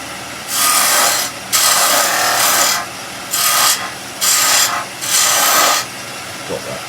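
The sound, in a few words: spindle gouge turning wood on lathe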